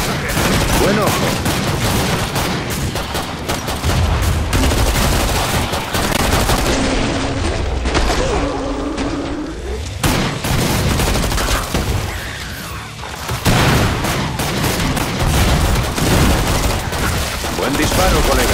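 Dense, loud gunfire from the video game Killing Floor 2, with rapid bursts and volleys running almost continuously and only brief dips in intensity.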